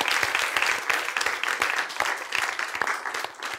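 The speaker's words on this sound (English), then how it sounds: "I think that deserves a round of applause." An audience at a business talk event breaks into applause, dense sustained clapping from many hands that stays loud throughout before tapering slightly at the end.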